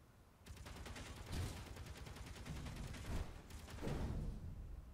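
Sustained rapid gunfire pounds a transforming truck in the space building game Space Engineers, with a steady stream of rattling shots in rolling bursts, fairly quiet overall and with no talking.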